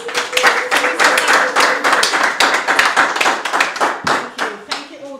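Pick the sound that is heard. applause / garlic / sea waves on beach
applause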